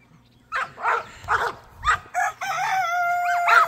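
A chicken squawks and shrieks during a scuffle with a dog, several sharp bursts of clucking cries and a long squawk up close, with a dog's yelps mixed in.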